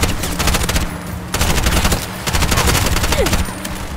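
A machine gun in the video game Bright Memory: Infinite fires rapid, sustained bursts, loud and close, with brief gaps between volleys.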